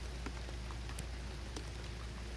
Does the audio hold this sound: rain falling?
yes